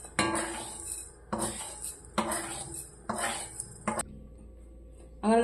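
Roasted fenugreek and cardamom are scooped out of a pan with a metal spoon, giving about five clinking scrapes at an uneven pace, close by, then a pause and one last clink.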